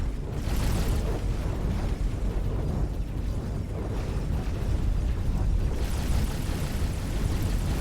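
An explosion in a space video game, with deep rumbling booming blasts that surge near the start and again toward the end over a continuous low roar, with no talking.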